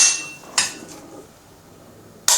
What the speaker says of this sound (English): let me show you the trigger pull on this thing